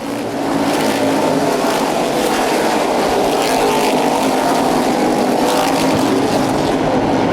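Street stock race cars roar around Anderson Speedway during a 75-lap feature, a dense, steady engine drone that stays loud and continuous throughout, with no speech over it.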